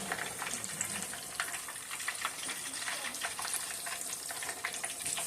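Battered fish, coated in a club soda batter, frying in hot oil with a steady, dense crackling sizzle that continues without a break, close and fairly loud, with no voice over it.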